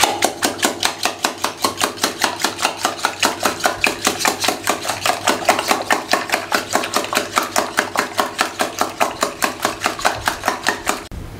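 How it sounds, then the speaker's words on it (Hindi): Four eggs with crushed sugar being beaten in a bowl, a fast, steady rhythmic clatter of a whisk or fork against the dish repeating evenly for several seconds, close and loud. "ये फेंट लिए हमने अंडे"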